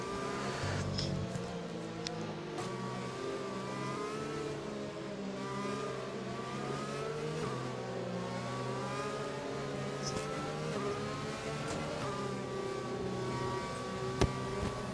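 Race cars lapping a track in the Britain round of a tier 2 racing series, engines droning and shifting pitch continuously as they rev and accelerate, mid-distance and steady, with no voices.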